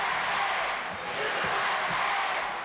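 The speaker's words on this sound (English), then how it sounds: "Listen to this crowd." Arena crowd at WrestleMania X roars during the Yokozuna vs. Lex Luger WWE title match, a broad steady wash of cheering under a commentator's voice.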